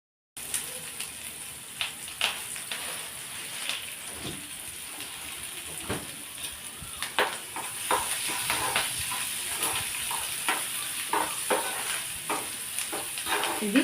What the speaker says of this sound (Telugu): ఇది కొద్దిగా ఫ్రై అవ్వనిద్దాం.